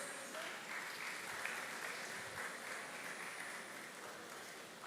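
Steady audience applause fills a convocation hall at IIT Madras, a dense, even wash of many hands clapping at moderate distance, sustained without a break.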